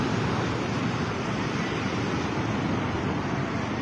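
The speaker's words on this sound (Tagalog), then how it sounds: "Ang lawak ng dagat." Sea waves on the Ilocos coast wash in a steady, dense hiss of surf, moderately quiet and continuous with no talk over it.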